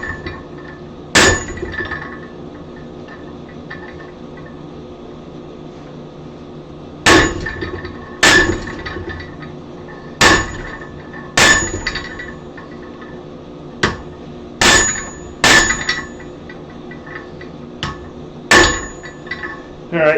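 Hammer blows drive a cutter into a piece of twisted steel, sharp metallic strikes landing singly or in close pairs with gaps between, loud and near against a faint steady hum.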